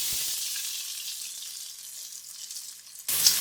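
A large chopped onion with cloves and small green cardamom sautéing in hot oil in a pan, a steady close sizzle that softens gradually, then flares louder near the end.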